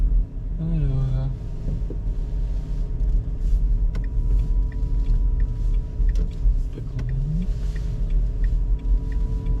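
A 2023 Renault Twingo accelerates gently, heard from inside the cabin as a steady low engine and road rumble, while people talk over it.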